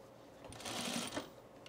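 A sewing machine stitches a shirt collar stand in one brief, quiet burst of rapid needle clatter that starts, runs for about half a second, and stops.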